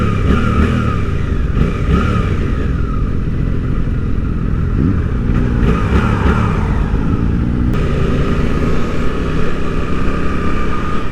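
A Suzuki GSX-8R sport bike accelerates with a loud, continuous engine roar and wind rush heard from the rider's position. Revs climb and shift steadily through the whole stretch, with no talk.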